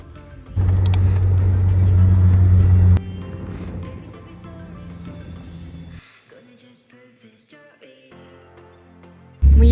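A car rolls along a road in a Swedish suburb on the way to a river beach, its low engine rumble and tyre roar loud at first, then easing to a quieter cabin hum with small knocks and rattles.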